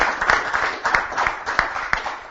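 Audience applause at a Gran Fondo Carrera bike event in 2012: a steady, dense patter of many hands clapping, with a few sharper claps standing out at a fairly regular beat.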